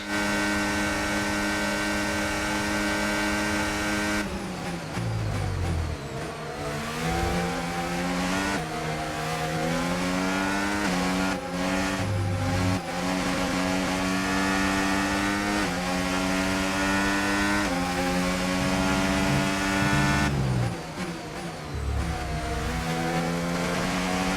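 Formula 1 race car engines in the F1 2025 video game, a loud continuous high-pitched engine whine that rises and falls with gear changes, steady and close throughout with no talking.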